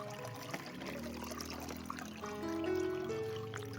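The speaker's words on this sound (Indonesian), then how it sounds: "Siram sampai benar-benar basah." Water poured onto the potting medium of a Dendrobium nobile orchid, a quiet steady trickle and splash lasting a few seconds, faint and close, with no speech.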